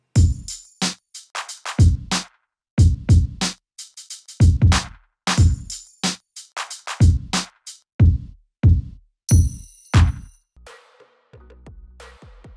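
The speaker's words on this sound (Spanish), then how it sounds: "Con todo esto, la batería completa suena así." A full West Coast G-funk drum beat with punchy kick and snare, jingling bells and tambourines, plays in a steady loop, loud and close, with no talking.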